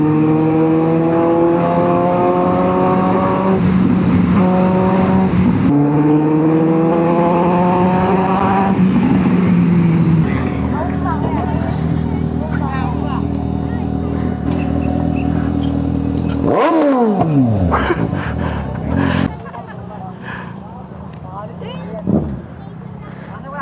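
A Suzuki GSX-S750 motorcycle revs loudly while riding, engine pitch climbing in repeated sweeps through the gears, with steady wind and road roar underneath and a brief sharp drop near the end.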